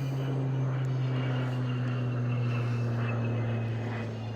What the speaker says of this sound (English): twin turboprop.